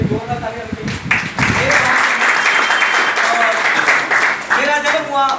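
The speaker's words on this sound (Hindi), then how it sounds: "जोरदार तालियां बजाइए" A crowd at a network-marketing seminar bursts into loud, sustained clapping that swells after a spoken introduction, with a voice talking at the start and end over the applause.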